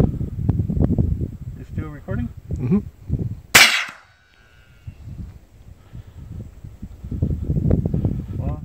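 A single sharp rifle shot at a Tannerite target, a loud crack partway through, with people talking before and after it.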